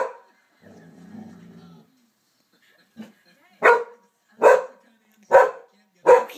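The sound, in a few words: puppy growling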